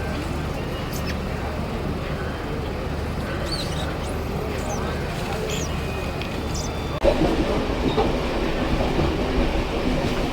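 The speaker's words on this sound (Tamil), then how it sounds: "ட்ரெயின் இழுக்க தொடங்கிட்டு" Train beginning to pull away, with a steady rumble of the rail carriage and light clatter throughout, growing a little louder partway through; people chat faintly in the background.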